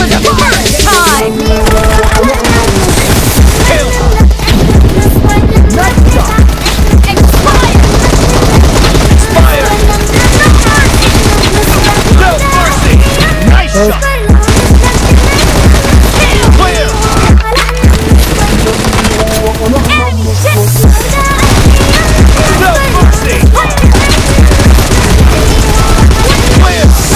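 Dense video game gunfire keeps up without a break, with loud rapid automatic bursts, single shots and booms layered over the game's sound effects.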